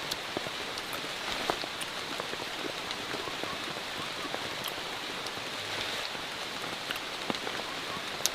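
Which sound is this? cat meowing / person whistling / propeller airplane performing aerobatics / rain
rain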